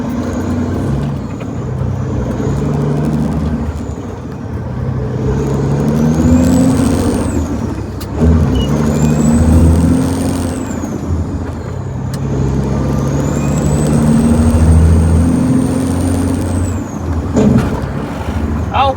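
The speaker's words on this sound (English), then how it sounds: "I can't shift this truck to save my life." A Peterbilt truck hauling a wide load revs loudly in the cab. The engine rises and falls as it climbs through the gears, with whining upshifts and a hiss near the end, while someone talks over it.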